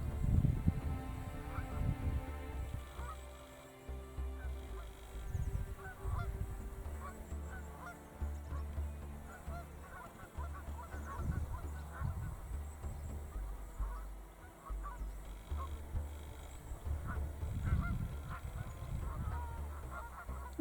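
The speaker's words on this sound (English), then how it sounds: "The fields over the other side of the reservoir full of Canada geese." Flocks of Canada geese honk repeatedly from fields across Backwater Reservoir in Scotland, a distant, overlapping chorus of calls under grey, fairly calm outdoor air.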